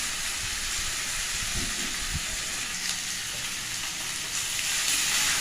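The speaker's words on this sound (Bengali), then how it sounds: "দেখো সুন্দরভাবে আমি কষিয়ে নিয়েছি" Fish heads and potatoes sautéing with spices in a pan, a continuous loud hissing sizzle with a few soft stirring knocks underneath.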